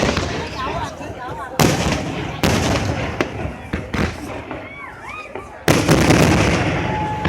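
Fourth of July fireworks bursting overhead, a string of loud booms and crackles at a distance, with people talking and exclaiming between the explosions.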